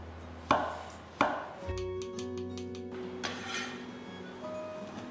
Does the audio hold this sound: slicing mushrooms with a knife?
yes